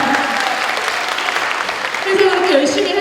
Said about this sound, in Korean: 표창장도 받았습니다. 박수!